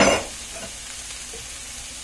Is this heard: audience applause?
no